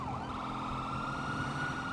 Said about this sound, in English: Why do I still hear sirens?